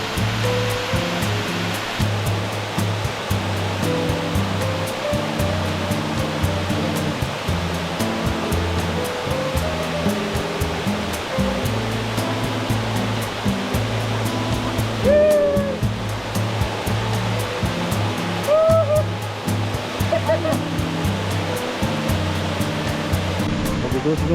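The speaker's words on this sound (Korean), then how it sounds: "무명폭포입니다" A waterfall swollen after heavy rain on Bukhansan mountain roars steadily and loudly throughout, with a few faint voices and brief higher sounds breaking through now and then.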